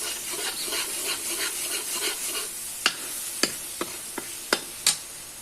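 Spices sizzling in oil in a pan for Amritsari nutri curry, a steady close hiss broken by a string of sharp scraping clicks as a spoon stirs against the pan, with no voices.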